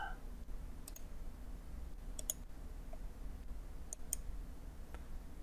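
A computer mouse clicks at close range, a few sharp isolated clicks spread over a few seconds against a quiet hum of room noise.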